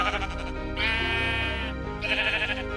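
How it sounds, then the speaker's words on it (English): A sheep in the Minecraft video game bleats twice in close succession, each cry loud and wavering, over a steady low game soundscape. "It was attacking a herd of innocent sheep."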